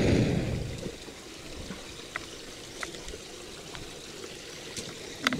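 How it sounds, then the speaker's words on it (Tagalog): A shallow creek burbles and trickles steadily nearby, with a brief louder rush of water at the start and occasional small splashes and clicks over the calm flow. "Sa ingay pa lang ng tubig ay parang gagaling na yung karamdaman mo."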